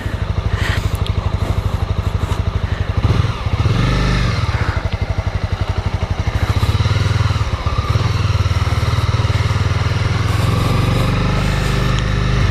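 A 2018 Honda CB300R motorcycle being ridden, its engine droning loud and close with a pulsing exhaust note that rises and falls through gear changes, under wind noise.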